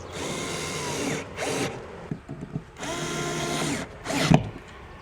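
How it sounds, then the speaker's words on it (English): A power drill drives Phillips screws into a mounting bracket for a motion sensor soffit light, whirring in two long bursts with short spurts and clicks of handling between, loud and close. "So we're going to mount this with two screws."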